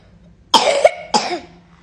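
A child with a long-lasting cough coughs twice, short and close, with a brief pause between the harsh bursts.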